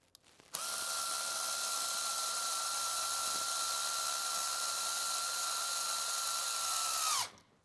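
Power drill driving screws while reassembling a laser engraver's rotary prototype, a single sustained high-pitched whine starting with a click, holding steady and close for about six and a half seconds, then winding down.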